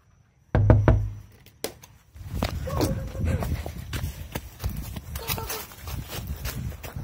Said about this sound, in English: I'm going to knock and ring the doorbell.